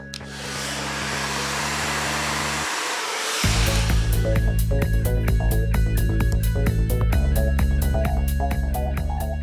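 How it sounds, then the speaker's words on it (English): A hair dryer blow-dries hair with a round brush as a close, constant whooshing roar that grows louder partway through, with quick regular brushing strokes ticking over the airflow. "take your round brush, stick it in going on top of the piece of hair. Okay, and then you're gonna blow dry from underneath"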